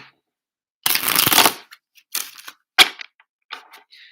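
A deck of cards is riffle-shuffled up close: one long crisp flutter of cards, then several shorter snaps and taps as the deck is squared, with quiet moments between.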